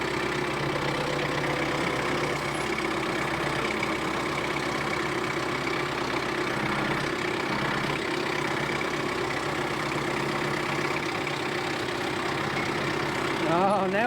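Kioti CS2520S compact tractor with backhoe working on a large tree stump and root ball, its diesel engine holding a steady loud drone throughout, with a brief rise near the end.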